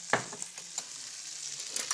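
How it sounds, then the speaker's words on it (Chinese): Seafood stir-fries in hot oil in a cooking-show kitchen, half fried and half seared, with a steady close sizzle and occasional scraping stirs of a utensil, no voices. "然后师傅先炒的是海鲜， 先把它炒香"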